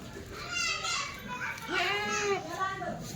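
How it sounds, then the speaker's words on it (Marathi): Children's voices from a nearby preschool (anganwadi) near a goat farm, a lively overlapping chatter of young kids at moderate distance, continuous across the moment with rising bursts of calls. "बाजूला अंगणवाडी आहे अंगणवाडीचा पोरांचा आवाज आहे"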